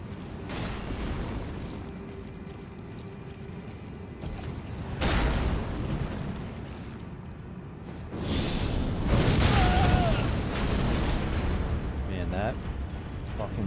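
Jar cannon blasts in Elden Ring combat, several heavy booming explosions with whooshes between them, loud and spaced out, under steady talking throughout.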